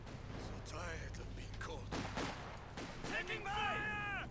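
Company of Heroes 2 battle with Panzerschreck rockets and gunfire, a clatter of shots and bangs over a steady low rumble, with voices talking throughout.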